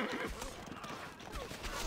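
A horse neighs in the Stronghold Crusader strategy game, a short whinny with rustling and hoof-like thuds, heard close and moderately loud among battle sounds.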